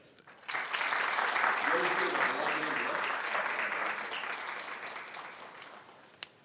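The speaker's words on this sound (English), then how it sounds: "So please give a round of applause" An audience at an academic exposition closing celebration and awards ceremony bursts into applause for the keynote speaker, rising suddenly and holding a full, dense roar of clapping before gradually tapering off, with a sharp knock near the end.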